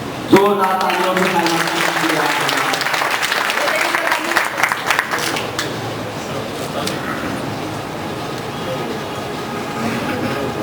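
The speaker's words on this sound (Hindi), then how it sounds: "जोरदार तालियों से" A large audience at a district gathering in Shahjahanpur breaks into loud, sustained applause that builds quickly and continues throughout, dense clapping with a crowd murmur underneath.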